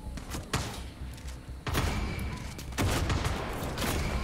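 Gunfire and heavy impacts fill a Far Cry 6 firefight, with sharp bangs and thuds over a dense, noisy game soundscape that grows louder around two and three seconds in.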